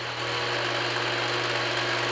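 A WEN 4214 12-inch variable speed drill press runs at high speed, giving a steady, continuous motor hum and whir, close and even, with no talking.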